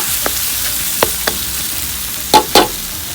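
Spicy field rat meat is stir-fried in a pan: a few sharp scrapes and clacks of stirring sound over a faint, steady sizzle.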